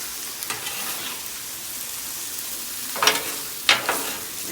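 Spaghetti in Cajun sauce sizzles on a griddle as it is mixed, a steady soft frying hiss with a couple of brief louder scrapes near the end.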